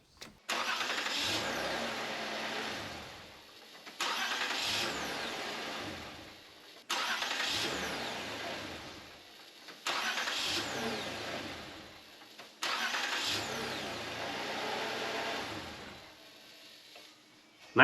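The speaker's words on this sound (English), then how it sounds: "let's go ahead and start it up" Toyota Highlander (2008-2013) engine started five times in a row after a starter motor replacement, each a loud crank and catch into a settling idle, separated by brief pauses, heard close with no talking.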